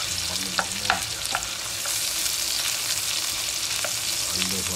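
Chopped onion and garlic sautéing in a hot pan, a steady bright sizzle with occasional scrapes of a stirring spoon, close and continuous throughout.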